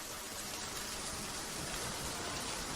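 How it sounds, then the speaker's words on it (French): Heavy rain pours down in a dense, unbroken hiss of drops striking surfaces, loud and constant for the whole stretch with no voices. "Il pleut très fort."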